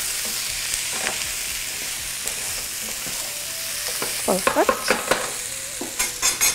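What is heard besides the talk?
sautéing potatoes with onion, oil, spices and curry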